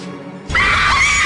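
A screamer prop at a TV game show lets out a sudden, loud, piercing scream that cuts in abruptly after a quieter moment and holds steady to the end.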